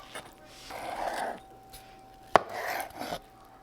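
A knife works through simmered corned beef on a board, with a few soft chopping strokes and one sharp clack of the blade striking the board. It is close and moderately loud, with no voices.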